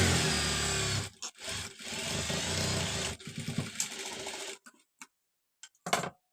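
Sewing machine running a straight stitch on a garment side seam, a fast steady whirring that runs a second, breaks briefly, then resumes in bursts before stopping, followed by a few faint handling clicks and a short final burst.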